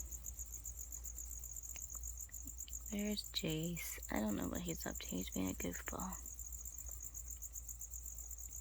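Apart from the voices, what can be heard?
cricket chirping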